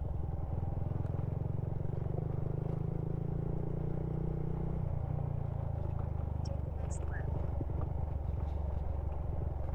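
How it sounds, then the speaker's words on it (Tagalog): A motorcycle engine drones and rattles steadily at close range while riding toward a beach resort in Burgos, Pangasinan, its low rumble shifting partway through, with people talking over it. "Nakakalampag yung motor ah."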